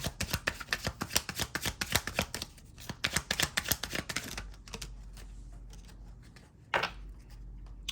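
Tarot cards being shuffled in rapid, crisp riffling bursts for about four seconds, followed by a few softer card slaps and a low background hum.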